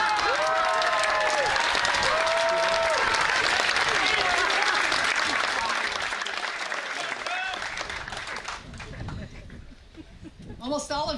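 Audience applause fills a graduation ceremony, a loud sustained roar of many hands clapping with some cheering, fading slightly toward the end while a voice speaks over it.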